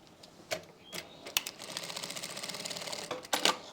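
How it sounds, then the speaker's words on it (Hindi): A sewing machine stitches trouser fabric in a fast, even run of rattling clicks, with a few louder knocks before and after the run. "यहां पे पहले हम एक सिलाई लगा लेंगे"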